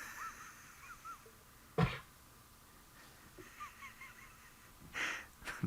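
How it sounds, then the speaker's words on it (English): A resting rhino on safari gives a sharp breathy cough, then a longer rasping exhale like a yawn a few seconds later, with soft bird calls and a quiet outdoor background around them. "Bit of a yawn and a cough there"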